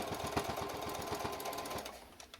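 A sewing machine stitches a pleat in a fabric face mask, a quick, steady mechanical chatter of needle strokes up close that runs for a couple of seconds and then stops.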